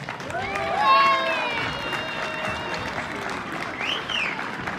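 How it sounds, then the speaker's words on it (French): An audience applauds a musical group steadily with some whistles and cheers rising over the clapping, while voices are heard within the crowd noise. "un tonnerre d'applaudissements pour le groupe"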